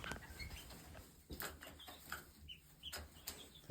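Several chickens cluck and chirp in short, scattered bursts close by in a new coop, with a soft rustle and a few sharper notes in between.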